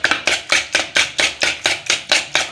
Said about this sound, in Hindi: हमने अंडे ले लिए हैं, इनको अच्छी तरह बीट करेंगे अभी